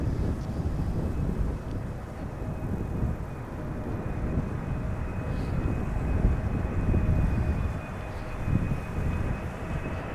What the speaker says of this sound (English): this is KLM flight 736 arriving from Willemstad, Curaçao, a 777-300ER